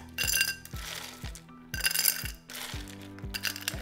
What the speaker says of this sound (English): We're gonna add some ice.